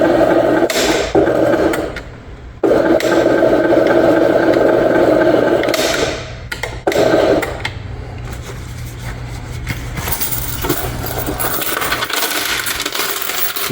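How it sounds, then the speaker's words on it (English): A combined vending and pop machine runs in a laundromat, a loud close mechanical whir and hum with abrupt stops and restarts, motor drones cutting in and out. "That's the vending machine, by the way, and pop machine together."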